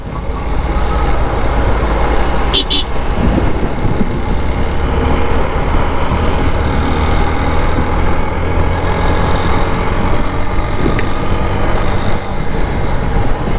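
Road traffic during a light jam, heard from a motorbike on a windy road: a steady, loud rumble of engines and tyres with wind noise runs unbroken throughout, with no voices.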